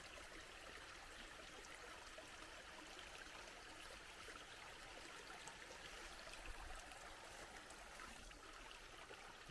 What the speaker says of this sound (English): you can hear these creeks for, you know, a couple hundred yards before you get to them